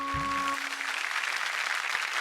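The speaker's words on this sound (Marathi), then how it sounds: "एकदा जोरदार टाळ्या तुमच्यासाठी होऊन जाऊ देत" A studio audience breaks into dense, sustained applause after a brief tonal music sting, the clapping steady and full for about two seconds.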